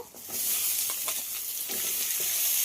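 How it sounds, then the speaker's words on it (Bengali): Chopped vegetables hit hot oil with onion and nigella seeds and fry in a steady, fairly soft sizzle, with a few light stirring scrapes and no voices. "এবার কেটে রাখা সবজিগুলো দিয়ে দেব"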